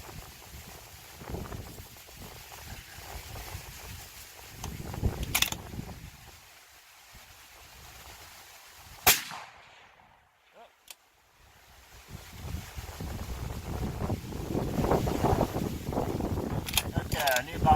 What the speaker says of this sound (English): it's real gusty up here